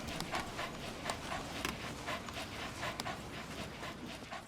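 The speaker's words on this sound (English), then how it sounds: "I'm sorry about DD's panting" A dog companion in Metal Gear Solid V pants steadily in quick, breathy bursts, close and fairly quiet, with no talk over it.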